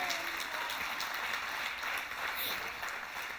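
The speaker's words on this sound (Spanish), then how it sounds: "Dale un aplauso a Dios si lo recibe." Applause from a church congregation during a sermon by a pastor, a steady broadband patter of many hands sustained throughout at moderate, somewhat distant level.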